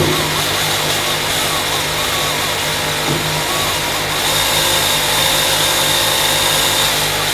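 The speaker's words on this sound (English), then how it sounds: "So I've got my hone, which is the same one I use for bores, and I just use this as a little bit of lubrication down there like that." A power-driven hone spinning inside a bore of a Ferguson TEA20 tractor lift plate to remove surface rust, a loud continuous whirring grind that steps up slightly in intensity partway through.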